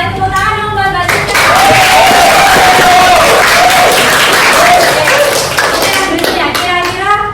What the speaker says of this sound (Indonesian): tepuk tangan dong buat Mbak Cinta.